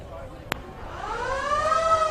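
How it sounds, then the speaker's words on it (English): A siren at Woy Woy Oval, a Central Coast rugby league ground, rises as a wavering wail after a sharp click. It swells steadily over faint background noise. "There's a siren in the background."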